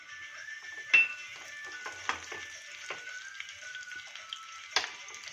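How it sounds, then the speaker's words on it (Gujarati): Mustard seeds and curry leaves sizzle steadily in hot oil, a soft continuous hiss broken by several sharp pops and crackles from spattering seeds. "રાઈ એકદમ સોતળાઈ જાય એટલે નાખીશું આપણે લીમડો."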